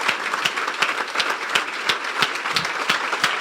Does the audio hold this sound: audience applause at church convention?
yes